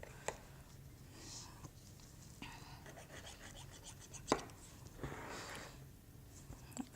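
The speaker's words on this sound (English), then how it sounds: "take a paring knife and just cut around the edges up against the pie, just to give it a nice trim" A paring knife trims the crust edges of an apple pie, with quiet scraping cuts and a few sharp taps against a cutting board, close and faint, with soft whispery sounds in between.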